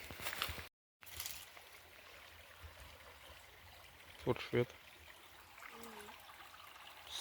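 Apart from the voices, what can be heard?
small stream flowing by a water mill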